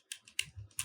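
A few quick, close keystrokes on a computer keyboard as a value is entered, crisp clicks with short gaps between them.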